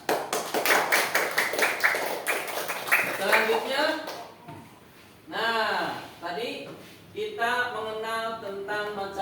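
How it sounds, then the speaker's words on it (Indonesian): Classroom of pupils clapping in unison, a quick run of sharp claps at the start, followed by a teacher's voice giving instructions. "Tepuk tangan."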